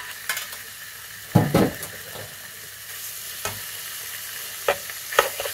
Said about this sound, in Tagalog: same fry pan, let's put the meat.